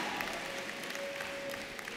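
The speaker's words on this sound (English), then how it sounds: "Can I get an applause for that?" A large crowd at a university business school commencement claps continuously in a steady, broadband roar of applause, with no talking and a faint tonal hum running underneath.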